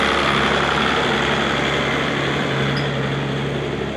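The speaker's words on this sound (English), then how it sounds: "The tractor's a little loud" A tractor engine runs loudly and steadily nearby, a constant droning rumble with no pauses.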